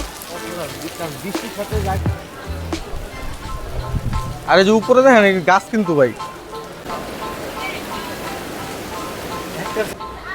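Continuous rain patters and hisses in the background on Sentosa Island while people talk in the foreground.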